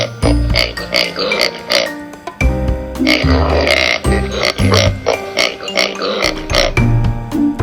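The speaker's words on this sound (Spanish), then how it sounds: "Cerdo." A pig grunts and snorts in a string of loud, close, rough bursts that run steadily across the clip, with brief gaps between them and no talk.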